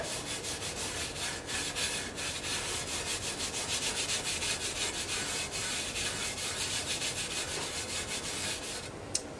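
Steady rubbing and scrubbing of a Brillo pad against a rusty garden tool, a continuous close abrasive scratching with a quick repeated back-and-forth rhythm and no talk.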